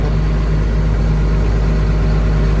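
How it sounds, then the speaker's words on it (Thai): Kobelco SK210 excavator with a six-cylinder four-stroke water-cooled turbocharged, intercooled 165-horsepower engine idling, a steady close, loud low rumble with constant harmonic drone and no talk. "เครื่องยนต์หกสูบสี่จังหวะนะครับ ระบายความร้อนด้วยบนน้ำเทอร์โบชาร์จอิเตอร์คูลเลอร์ ร้อยหกสิบห้าแรงม้าครับ"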